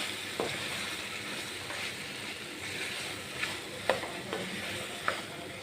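Mashed potatoes stirred into oily fried masala in a pan, a low steady sizzle with scattered scrapes and clicks of a spoon against the pan, close and fairly quiet with no talking.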